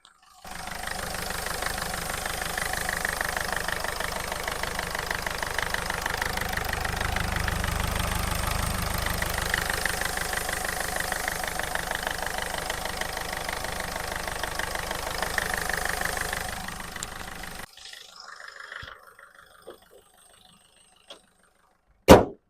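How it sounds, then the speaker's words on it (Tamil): A 2011 Ford Figo Titanium diesel engine idles close to the microphone with a steady, even clatter that runs unbroken for about seventeen seconds, then cuts off into near silence with a few faint knocks and one sharp click at the end. "வண்டியோட இன்ஜின் நாய்ஸ் நான் உங்களுக்கு மைக்கை பக்கத்தில் வச்சு காட்டுறேன்"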